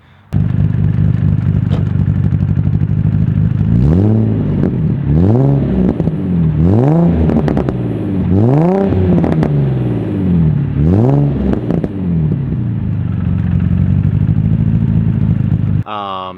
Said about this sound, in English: It's got a really nice catback exhaust on it.